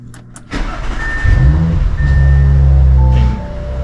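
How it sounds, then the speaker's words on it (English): Cold start of an Audi car: the starter whirs briefly, then the engine catches with a loud flare of revs and settles into a steady high idle, close by. "Should we do a cold start for the boys?"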